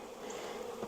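Honey bees swarm in a steady, continuous buzz around their hive as a swarm is split into colonies, a dense close drone that holds without a break.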